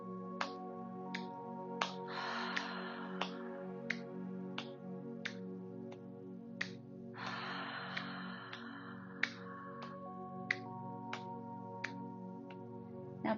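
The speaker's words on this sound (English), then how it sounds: "begin tapping your hands on your knees" Hands tapping on knees during a guided breathing practice, a steady run of light, crisp taps about twice a second over soft sustained background tones.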